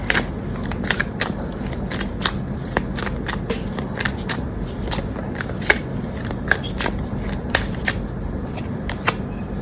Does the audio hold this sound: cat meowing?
no